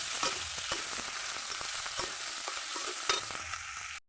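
Spice paste and green banana are stirred in a hot pan for a fish curry, giving a steady close sizzle with repeated scraping strokes of the spoon.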